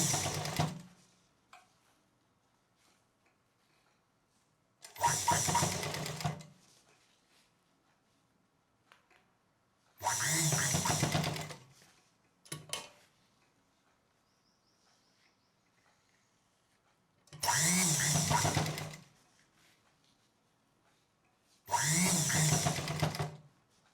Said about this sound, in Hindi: जो गोला खींचा है उसी पे हम सिलाई करते चले जाएंगे।